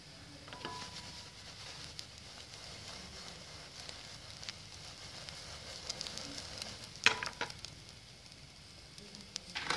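Bread omelette frying over slow heat in a pan gives a soft, steady sizzle with occasional light scrapes and ticks as the food is turned.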